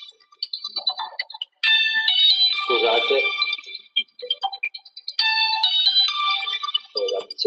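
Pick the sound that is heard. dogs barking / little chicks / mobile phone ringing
mobile phone ringing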